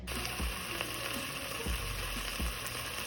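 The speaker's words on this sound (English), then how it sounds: "My steaks are in. I'm just waiting for them to get a good brown on one side." Steaks with red pepper flakes sear in a pan in a steady, close frying sizzle, with a few soft low thumps and clicks spaced through it and no talking.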